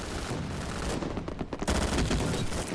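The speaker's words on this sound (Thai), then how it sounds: "ปืนดีดรัวจัด" Rapid gunfire from a video game gun rattles out in dense, continuous bursts, loud and close, with a brief gap before the fire resumes at full force.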